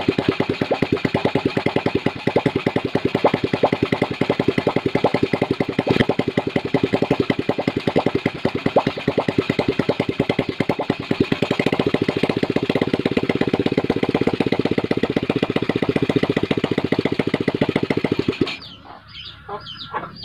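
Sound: motorcycle engine starting and running without battery

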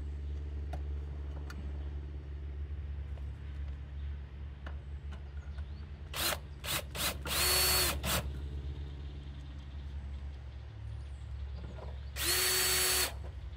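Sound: power drill driving screws into mini-split condenser cover

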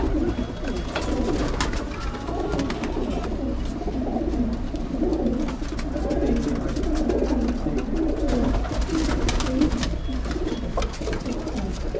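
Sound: pigeons cooing

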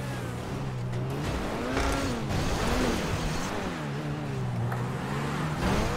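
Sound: car driving and sliding in video game GTA 5

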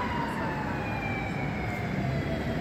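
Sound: fire engine or ambulance siren in Brooklyn street

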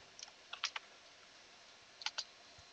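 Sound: typing on a computer keyboard

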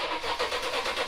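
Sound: Toyota 3UR-FE engine cranking in swapped Tacoma

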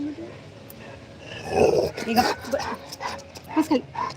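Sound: puppy whimpering

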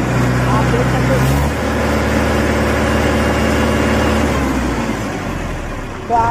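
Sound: Mahindra 47 HP tractor engine running, sound test

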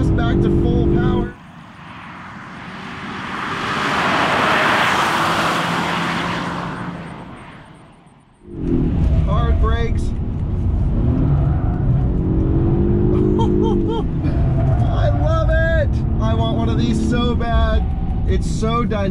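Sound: Polestar 1 driving at full power on a race track

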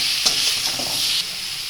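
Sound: stir-frying mango chutney in a pan

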